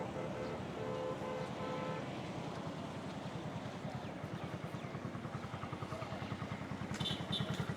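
A motorbike engine runs on a rural road near the Bangladesh–Myanmar border, heard fairly faint as a low rumble that settles into a steady, rapid putter, with a murmur of voices in the background early on.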